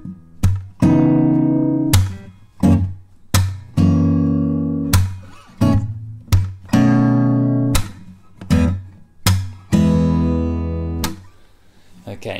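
A guitar plays a funky fingerstyle groove, punchy chord stabs and muted rhythmic strums, close and clear, with short gaps between hits.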